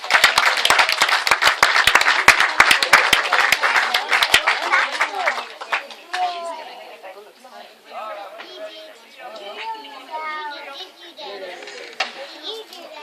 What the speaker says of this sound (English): Give him a clap, folks.